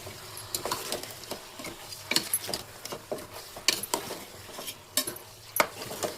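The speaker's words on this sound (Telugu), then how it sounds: "కలుపుతున్నాము" A spoon stirs chicken biryani ingredients in a pot, giving irregular scraping and clinking strokes over a soft sizzle, fairly close and with no talking.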